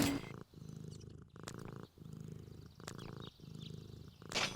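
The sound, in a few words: cat purring in the video game Deponia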